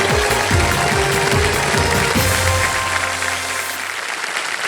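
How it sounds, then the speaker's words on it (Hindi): A studio audience on the Indian game show Kaun Banega Crorepati claps loudly and steadily for the contestant, with show music sounding beneath the applause before the applause thins out toward the end. "जोरदार ताली एक बार फिर से मिथिलेश कुमार जी के लिए।"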